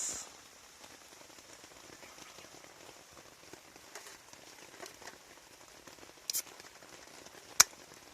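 Rain falling on a tarp at a campsite, a soft, steady patter of light drops with a few sharper taps standing out, fairly quiet and with no voices.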